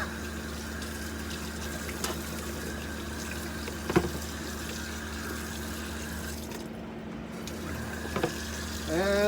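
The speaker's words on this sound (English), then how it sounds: "And then we rinse." Water runs steadily from a kitchen tap while a steak is rinsed, a constant close hiss that continues for the whole stretch with a couple of faint knocks.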